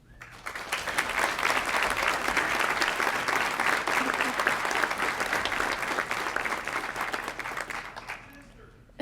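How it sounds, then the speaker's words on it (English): A commencement audience applauds steadily for several seconds at a college of agricultural sciences ceremony, a dense even clapping that swells quickly and then tapers off toward the end. "give a round of applause to the people in the audience"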